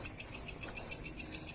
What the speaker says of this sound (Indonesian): Itu suara seperti walang,